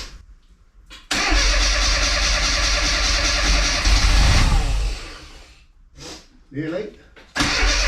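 A classic Mini's John Cooper conversion engine, first run in 22 years, cranks and catches into a loud close rumble, then falters and fires again in bursts while people talk over it.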